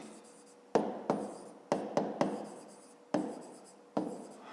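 Pen strokes scratch briskly across paper as an explanation is written out by hand, coming in short separate bursts with quiet pauses, close and faint.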